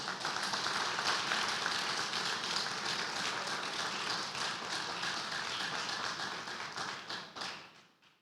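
Congregation in a church in Cienfuegos applauding, a loud, dense, continuous clatter of many hands that fades away toward the end, with no talking.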